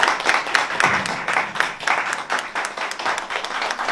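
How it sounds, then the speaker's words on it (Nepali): An audience applauds at a gathering in honour of a guest speaker, steady dense clapping that stays loud and even throughout with no pauses. "तालीको साथमा हामी उहाँलाई एउटा हौसला प्रदान गरौँ।"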